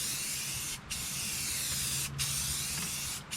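Spray gun laying a light dust coat of white sand paint onto a 1957 Plymouth Fury, a steady close hiss running continuously with three brief breaks between passes.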